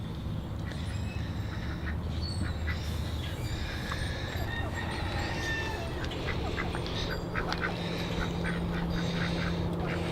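Ducks quack repeatedly close by in a garden area, with overlapping calls of varied pitch over a steady outdoor background.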